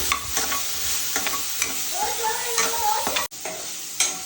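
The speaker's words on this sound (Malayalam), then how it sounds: "കൊച്ചുള്ളി ഇട്ട് നന്നായിട്ട് ഇളക്കി വരട്ടിയെടുത്തു" Shallots frying and being stirred in hot oil with ginger-garlic paste, giving a steady close sizzle broken by spoon scrapes and clicks against the pan, with no voices.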